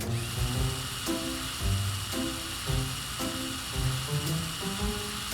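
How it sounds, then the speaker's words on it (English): A power drill spins with a piece of fruit attached, giving a loud, steady whirring motor tone that pulses in a regular wobbling rhythm. No voices are heard. "There is the fruit on the drill and it is dancing."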